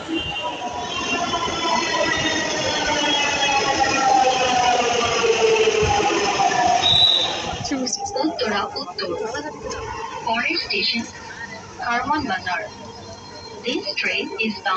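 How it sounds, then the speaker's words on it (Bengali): A packed moving train gives a constant rumble and rattle with rising wheel whine, and the steady noise breaks into clattering later on. People talk close by throughout. "এই তো আমরা ট্রেনে উঠে পড়েছি। আর আমরা এক ফোঁটাও বসার জায়গা পাই নাই।"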